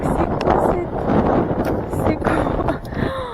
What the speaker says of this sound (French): Il fait beau soleil mais il y a du vent.